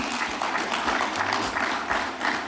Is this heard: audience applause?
yes